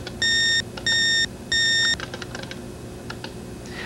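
Three sharp electronic beeps from an IBM PC ring out in quick succession, followed by a few soft keyboard clacks, close and clear over a faint steady hum.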